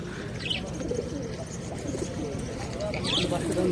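A pair of pigeons at a Birnagar market coo in soft, low, rolling phrases amid a busy background of people talking and market bustle.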